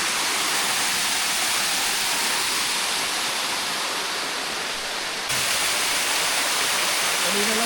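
Waterfall rushing in a forest after heavy rain, a loud, steady roar of white water filling the whole clip without pause.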